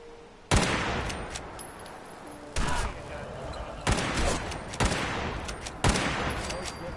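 A lever action rifle firing in the video game Fallout 4, five loud sharp shots at roughly one-second intervals, each with a reverberant tail and faint mechanical clicks between.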